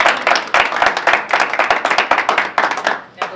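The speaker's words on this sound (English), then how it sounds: "So we applaud you." A seminar audience of teachers gives brisk, close applause, many hands clapping quickly in overlapping bursts that thin out toward the end.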